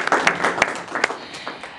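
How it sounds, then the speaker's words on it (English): An audience at a panel discussion gives a short round of applause, a few sparse, fairly close claps that thin out and fade within two seconds. "Shall we give them a little round of applause?"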